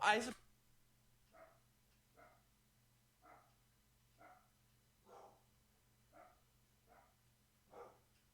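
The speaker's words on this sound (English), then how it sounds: "There is a dog outside, like right outside my door." A dog barks in a steady series of eight or so single woofs, spaced about a second apart, moderately loud over a low background hum.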